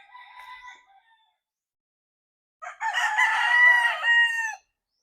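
Roosters crow in two bursts, a brief fainter call first, then a longer, louder, close crow after a short silence, from stag roosters kept with a white kelso broodhen.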